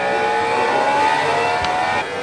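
A Ducati Panigale V4 engine roars at full throttle on a Moto Trainer motorcycle simulator during a fast Mugello lap, a loud sustained high-revving drone with a brief dip near the end.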